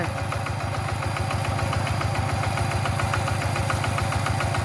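A walk-behind tractor's small engine chugs steadily at close range in a rice paddy, a rapid even knocking rhythm that holds without pause.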